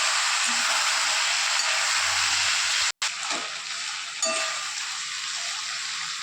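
A curry is stir-fried in a pan with a constant, fairly loud sizzling hiss that cuts out for a moment midway, then carries on with faint scraping.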